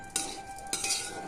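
A spoon stirs and scrapes semolina (suji) in a pan while making a spicy sweetened suji dish. Two close, distinct scraping strokes sit over a steady light hiss, with no talking.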